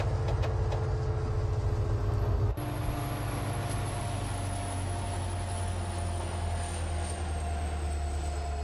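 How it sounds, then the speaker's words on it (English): A locomotive engine in the Open Rails train simulator game powers down. A low rumble steps down partway through, and a steady traction motor whine then slowly falls in pitch and stays in the foreground. "Oh, that powered down engine sound is so good! And you can hear the traction motors!"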